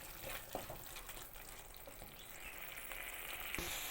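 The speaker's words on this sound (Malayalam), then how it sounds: "അപ്പോൾ എണ്ണ ഇതുപോലെ തിളഞ്ഞ് വരണം" Oil bubbling and sizzling in a pan while making tomato rice, a continuous close crackle with faint clinks.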